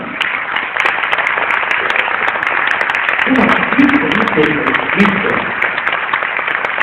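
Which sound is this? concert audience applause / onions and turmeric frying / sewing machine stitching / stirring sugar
concert audience applause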